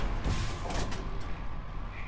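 Doors shutting in the horror video game Frigid Dusk: a couple of dull thuds over a steady, noisy ambient background.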